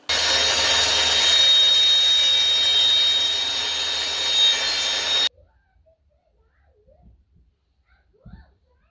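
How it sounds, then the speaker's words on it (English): A router trims the edge of plywood skirting trim during a bathroom renovation, a loud steady high-pitched whirring grind for about five seconds, then cutting off abruptly to near silence with faint handling knocks. "So just router a bit of an edge on it"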